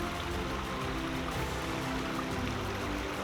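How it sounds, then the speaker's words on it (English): A stream runs steadily on Birdlip Hill, its water rushing and trickling in a constant, fairly quiet wash with no pauses and no voices. "the sound of running water"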